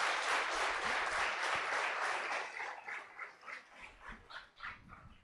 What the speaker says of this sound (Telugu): చప్పట్లు కూడా దేవుని నామమును మహిమపరచుకుందాం.